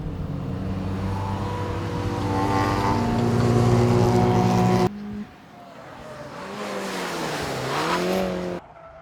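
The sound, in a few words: cars driving on race circuit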